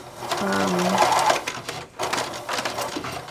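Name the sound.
sewing machine stitching purse handle seam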